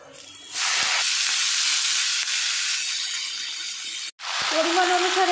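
Greens tossed into a pan of garlic fried red in hot oil, a loud broad sizzle that surges when they hit the pan, holds steady for several seconds, cuts briefly and flares up again.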